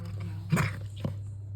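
Pet cat named Pihu chewing a treat indoors, a few quiet crunchy bites close by over a low steady hum, with no voices.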